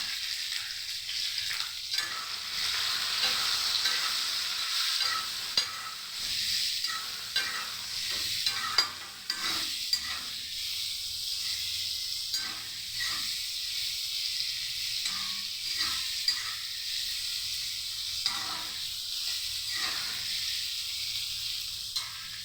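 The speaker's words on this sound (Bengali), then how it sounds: "আর এদিকে ফোড়নে মেথি দিয়েছি আর সাজনা আলুগুলো দিয়ে দিয়েছি।" Drumstick pieces and potatoes fry in oil tempered with fenugreek seeds, giving a steady, close sizzle and hiss with occasional stirring scrapes throughout and no voices.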